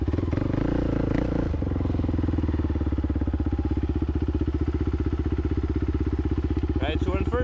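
A race quad ATV engine chugging at low revs with a steady rapid pulse and mechanical clatter as the clutch is worked, close by and fairly quiet, with a voice speaking near the end.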